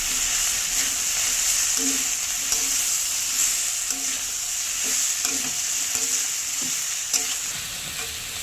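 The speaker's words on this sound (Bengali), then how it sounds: "দেবো লাল লঙ্কার গুঁড়ো, দিয়ে ভালো করে একটু মিশিয়ে দেবো।" Red chili powder is stirred into food frying in a pan while a steady loud sizzle hisses throughout, broken by soft repeated scrapes and knocks of a spatula, close up with no voices.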